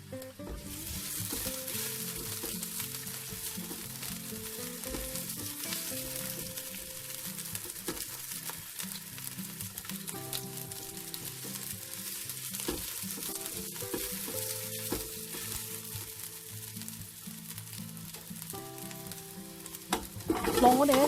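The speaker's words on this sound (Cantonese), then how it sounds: "我哋爆一爆啲薑片" Ginger slices stir-frying in a wok, a continuous close sizzle with spatula stirring throughout, a steady mid-level hiss over a low hum, ending in a louder burst.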